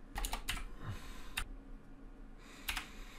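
Quick bursts of typing on a computer keyboard while filling in a website registration form, clusters of close, crisp key clicks separated by short pauses, with no voices.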